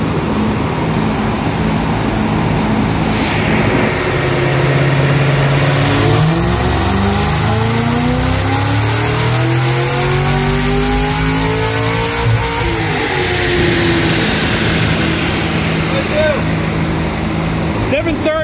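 A Cadillac CT5-V Blackwing with Magnuson, Kooks and tune bolt-ons roars through a dyno pull, engine note climbing steadily then dropping off, loud and continuous with a voice talking over it.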